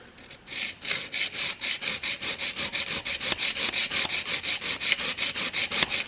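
An Annihilator single-bevel broadhead blade is sharpened in a guide on a diamond plate: about twenty quick, evenly spaced gritty rasping strokes, close up, forming a brisk back-and-forth rhythm.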